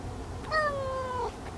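A single drawn-out cat meow from a stray tomcat being comforted outdoors near a cat shelter, close and clear, rising then sliding down over about a second, with a faint low background hum and no talking.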